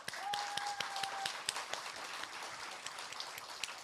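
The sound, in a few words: welcome applause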